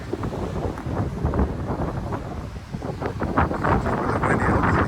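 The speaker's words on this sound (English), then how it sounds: "It's really windy." Strong wind roars steadily across a microphone on Point Mugu Beach along the Pacific Coast Highway in California, a dense, continuous rumbling buffet with gusts swelling toward the end and no other sounds standing out.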